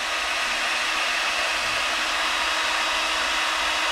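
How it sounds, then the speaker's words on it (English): A heat gun blows hot air during an electronics unit repair, giving a loud, steady, unbroken roar close by with no voices over it. "I'm just going to run the heat gun here and just get a bit of airflow going."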